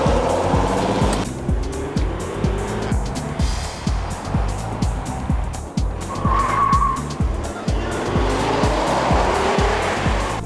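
Cars skidding with tire squeal during a managers' car test drive on a closed course: loud sustained screeching tires over a revving engine, with rapid rhythmic pulsing and shifting pitch for ten seconds.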